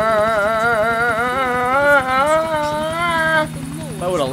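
A helicopter in the video game GTA IV hovers close by, its rotor chop rising and falling in pitch under a player's excited voice.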